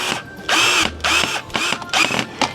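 A power drill drives screws into a custom pegboard in four or five short whirring bursts, each revving up and cutting off, with brief pauses between them, close and fairly loud.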